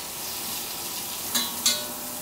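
Vegetables sauté in a hot pan for ackee and blackeye beans, giving a soft, steady sizzle with two brief louder crackling bursts near the end, close and alone without voices.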